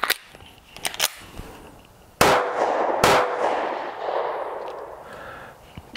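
Ruger MAX 9 Pro 9mm pistol firing on a range: two loud, sharp shots about a second apart, each with a ringing tail, followed by softer clicks and handling noise.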